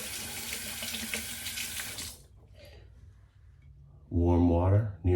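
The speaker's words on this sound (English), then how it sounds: "We'll rinse that out." Tap water runs steadily with a splashing hiss for about two seconds, then stops; a voice follows near the end.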